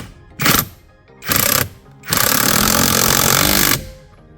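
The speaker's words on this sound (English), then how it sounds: "we're just gonna go ahead and fully secure it with the power driller" Power drill whirring in three bursts while fastening a carbon fiber steering wheel onto a Genesis G, two short runs followed by a longer sustained drive, close and loud.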